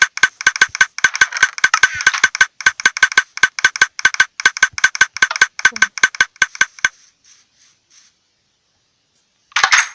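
Redstone mechanism in the Minecraft video game, a rapid run of sharp mechanical clicks in a steady rattling rhythm that stops, a few faint ticks following, then a short burst at the end.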